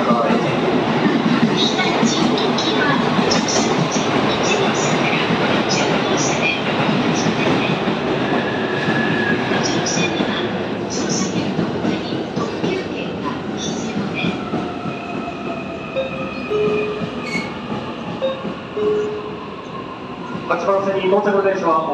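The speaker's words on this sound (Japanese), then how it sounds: "ホームの上の寄りには 8番線お下がりください。 列車が入線しております。" An E657 series express train pulling into a platform at Tokyo Station: steady loud rumble and rolling wheel noise with rising squeals and rail clatter near the end, under platform announcements.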